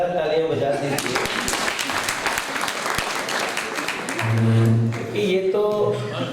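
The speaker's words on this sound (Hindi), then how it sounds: "जोरदार तालियां बजा दीजिए" Sustained audience applause at an event honouring Indian Idol winner Salman Ali in Delhi, dense steady clapping from a crowd throughout, with a voice speaking over it.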